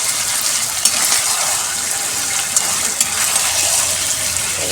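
Food frying in a small amount of oil gives a continuous close sizzle and hiss, with a few faint clinks and no voices.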